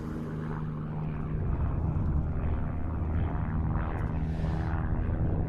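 An Extreme Decathlon, a modified Super Decathlon aerobatic aeroplane, flies a display at Duxford, its propeller engine droning steadily at a distance and swelling slightly louder, over outdoor background rumble.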